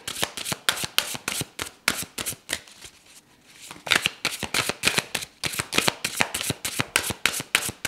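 Tarot cards are riffled and bridged in quick, sharp bursts of rapid flapping, close up, with a short pause in the middle before the shuffling resumes.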